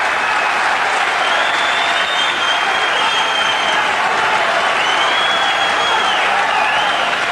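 Boxing crowd in London at a 1985 lightweight bout, a continuous roar of hand clapping and whistling, with high whistles sliding over dense, steady crowd noise throughout.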